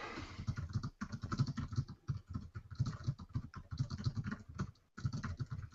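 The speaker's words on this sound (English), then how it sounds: "Some very serious typing." Rapid, steady tapping on a computer keyboard, close and clear, with keystrokes clattering in quick bursts separated by a few short pauses.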